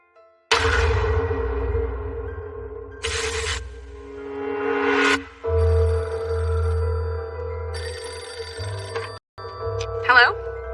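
An old-style telephone bell rings loudly and close in repeated bursts, each long ring followed by a short pause, in a quiet indoor room with nobody speaking.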